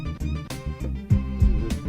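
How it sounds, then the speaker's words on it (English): Hip-hop drum loop run through Ableton Live's Drum Bus effect, with punchy, gritty kicks and snares hitting in a steady pattern, moderately loud and with no talk. "there's an effect called Drum Bus, and that will go a long way towards giving your drums more punch and grit."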